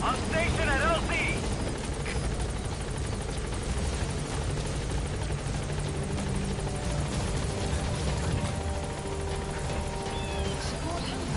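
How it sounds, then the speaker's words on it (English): A support helicopter arrives in the video game Metal Gear Solid 5, its rotor churning as a loud, continuous thrum under voices, with radio-style talk over the engine noise. "Support helicopter has arrived."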